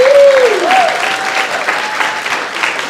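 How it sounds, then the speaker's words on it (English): Audience applause for guide dog teams at a graduation celebration on a campus, a steady round of clapping with a brief tonal whine near the start, sustained and fairly close throughout. "let's give another round of applause for all the wonderful teams that we've had today"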